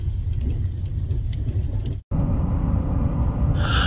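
A car jolts over a rutted road on the way to an ice-fishing lake in winter, its engine rumbling with steady, loud road noise throughout and a brief dropout midway, with no voices heard.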